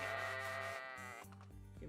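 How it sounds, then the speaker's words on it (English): A sheep bleats close by in a long wavering cry, followed by shorter broken bleats, heard alone on a farm at night. "There's a sheep."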